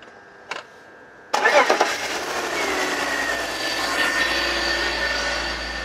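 A BMW E46 330i engine cranks and catches after a short click, then settles into a steady idle with a low rumble, close and fairly loud.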